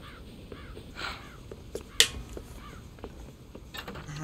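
Crows cawing on a farm in the video game Red Dead Redemption, several harsh caws scattered at moderate distance over a low background, with a sharp click partway through.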